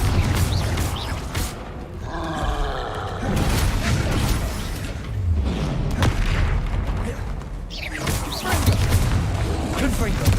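Bombarda blasting spells go off in Hogwarts Legacy, heavy booming explosions with crashing debris and creaking rumbles, loud and close, repeating across the stretch.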